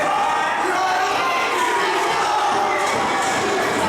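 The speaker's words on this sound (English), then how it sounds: "The crowd here do not appreciate the antics of Frankie Morris." A wrestling arena crowd reacts against a wrestler's antics with a dense, steady roar of shouts and jeers, loud and continuous throughout.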